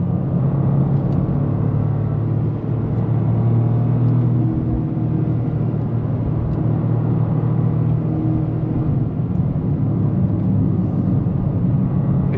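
A 2025 Toyota GR Corolla Premium driving at a quicker pace, its engine a steady low drone with subtle pitch shifts as the throttle is modulated, heard from inside the cabin with road rumble underneath and no one speaking.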